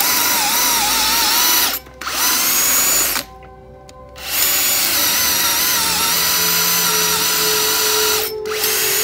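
A German-made FAMAG drill bit bores into wood with a steady, loud power-drill whine. The motor stops briefly twice, and there is a longer pause near the middle, after which the drilling resumes.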